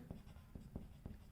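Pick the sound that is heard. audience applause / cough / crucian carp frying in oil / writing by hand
writing by hand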